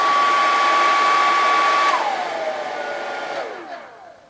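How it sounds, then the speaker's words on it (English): A portable heater's fan runs on high heat, powered by a Bluetti AC2A power station, with a steady whine that drops in pitch and winds down near the end, loud and close. "And you heard the sound of the fan there,"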